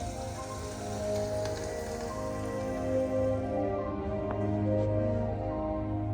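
Steady rain patters on surfaces nearby, a continuous even hiss with soft droplet taps throughout and no voices.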